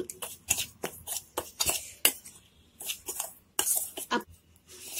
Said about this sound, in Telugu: పౌడర్ని ఒకసారి అంతా మిక్స్ చేసేసుకుందాం